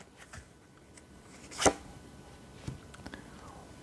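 Tarot cards give one sharp, close shuffle or riffle, then a few soft flicks and slaps as cards are drawn and laid down, all fairly quiet.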